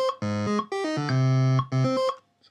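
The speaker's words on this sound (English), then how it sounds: "a square wave's harsher again" Square wave synth bass playing a few separate held notes, a harsh buzzy tone stepping between pitches with short gaps, close and alone.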